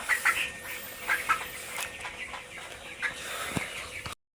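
Chickens cluck and squawk intermittently at moderate distance, a few short bursts over a quiet outdoor background before the sound cuts off abruptly.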